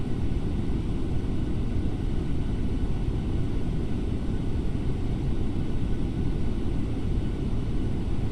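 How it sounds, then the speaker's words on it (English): A JetBlue Airbus airliner on approach in Microsoft Flight Simulator 2024, a steady dense roar of jet engine and airflow noise that holds constant throughout without pauses. "It's a JetBlue aircraft coming in."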